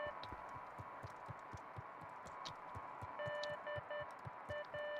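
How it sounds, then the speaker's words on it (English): Faint electronic Morse code beeping in the video game Beacon Pines, short steady tones sounding in bursts over a low rhythmic throbbing pulse. "That's Morse code."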